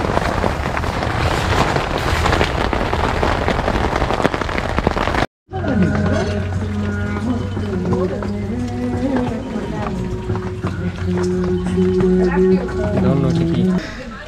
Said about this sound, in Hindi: बाहर ज़बरदस्त बारिश हो रही है, आप लोग को आई थिंक साउंड सुनाई दे रहा है थोड़ा बहुत।